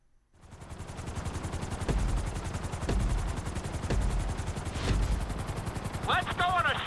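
A helicopter flies over Los Santos in Grand Theft Auto, its rotor beating in a fast, steady thump that starts up and holds loud and close, with a voice speaking briefly near the end.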